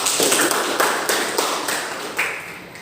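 A classroom of students claps hands in a rhythmic chant pattern, with about eight to ten crisp, close group claps in a steady pulse that gradually softens toward the end.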